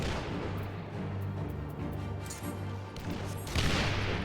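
Video game weapon fire in a steady stream of booming shots, loud and continuous throughout with a heavier burst near the end, no talking over it.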